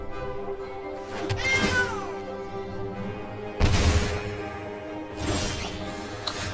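A cat in the Magic: The Gathering Eldraine draft video game lets out several loud, drawn-out meows spaced a couple of seconds apart, with a rising and falling wail and heavy bursts between calls.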